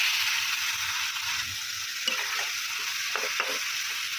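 Ginger, cumin, tomato paste and spices sauté in oil in a pan, a continuous bright sizzle with occasional scraping stirs and light clicks from the utensil, close and steady.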